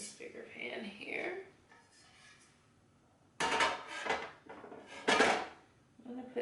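A large metal pan is handled on a home kitchen stovetop. Two sharp, loud clanks and scrapes ring out in the second half, with a voice talking quietly earlier.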